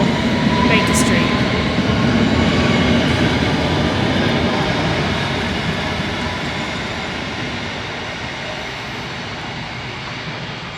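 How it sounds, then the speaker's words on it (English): A London Underground Metropolitan line train pulls out of Croxley station bound for Baker Street, a steady rumbling roar of wheels and motors that slowly fades as it draws away. "departing now, we have the Metropolitan line train we were just on. Departing Croxley for Baker Street"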